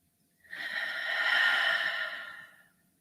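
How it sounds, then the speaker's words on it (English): A single deep, slow breath during a morning prayer, close and airy, swelling over about two seconds and then fading into silence. "Breathe in with me now. One more breath."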